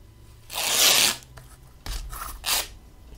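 Scissors cutting a paper piece for a mini journal cover, heard as a long close snip followed by two shorter cuts, with no talking.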